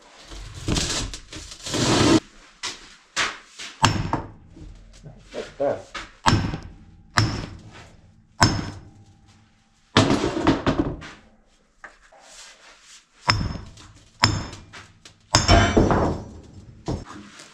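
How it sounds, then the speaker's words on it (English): Loud, irregular hammer blows on metal ring out in bursts with pauses between as a part is hammered off a Kirovets tractor, and a voice speaks briefly. "Maybe we'll be able to hammer it off."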